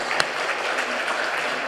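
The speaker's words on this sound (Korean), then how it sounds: "환영의 박수 한번 해주시겠습니다" A church congregation during a Sunday worship service gives a welcoming round of applause, a close, dense, even patter of many hands with one sharp clap standing out at the start.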